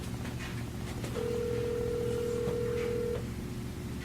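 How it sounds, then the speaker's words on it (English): A phone call on speakerphone being declined: a single steady electronic telephone tone holds for about two seconds against a constant low hum, with no talk over it. "Somebody is declining the call."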